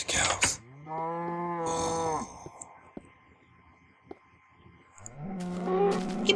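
Cows moo in the video game Minecraft: a long, close, drawn-out moo, then a quiet stretch with faint clicks, then another moo rising at the end.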